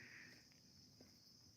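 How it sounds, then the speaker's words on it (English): Crickets chirp faintly and steadily in a quiet outdoor night setting, a thin continuous high trill that ends with a brief close bump. "I don't know if you guys can hear even the crickets in the background as I walk around."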